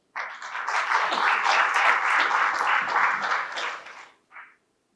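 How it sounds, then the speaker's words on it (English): An audience at a cybersecurity panel session claps for the panelists in a short, lively burst that swells quickly, holds for about four seconds, then stops abruptly with a last faint patter. "A big round of applause for them."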